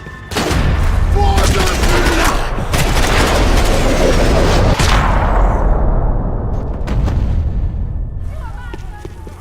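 Gunfire and explosions from the video game Max Payne 3, a loud, sustained barrage of booming shots and rattling fire over nine seconds, tapering slightly toward the end.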